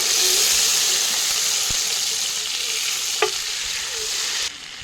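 Butter melting in a pan on an outdoor stove gives a loud, steady hiss and sizzle with no pauses, a brief clink near the three-second mark and the sound cutting off sharply right at the end.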